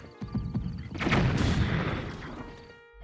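A deep, rumbling video game explosion blast swells up and lingers with a noisy, crackling roar before fading out, loud and close.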